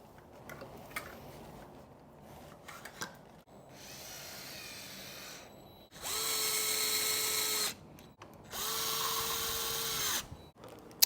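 A power tool tightens a bolt on the front fork of a Himiway Zebra e-bike in a few short bursts, each a rising whine that stops abruptly, with quiet handling clicks between.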